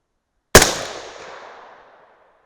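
A single sharp rifle shot from a 6.5 Grendel firing 107gr Sierra Match King loads cracks loudly and close, then rolls away in a fading echo lasting over a second.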